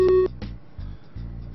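Telephone dialing in the point-and-click video game Maniac Mansion Deluxe: a loud electronic tone followed by a short series of low, evenly spaced dial pulses, game audio alone without talk.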